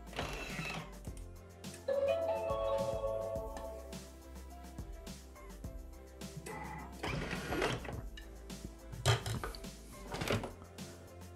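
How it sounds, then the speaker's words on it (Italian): A Thermomix TM6 food processor blends pistachio ricotta cheesecake cream at speed 4, giving intermittent mechanical whirring, clicks and knocks of varying loudness, with several sharper clattering bursts and no speech. "A questo punto azioniamo il bimby per 20 secondi a velocità 4."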